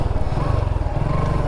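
Motorcycle engine running steadily close by during low-speed turning practice, a loud, even low-pitched putter that holds without clear revving.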